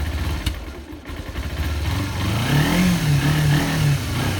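A 2010 Kawasaki Ninja 250 motorcycle engine running without the choke after carburetor work, a steady close mid-pitched drone with a slight wavering rise in revs partway through.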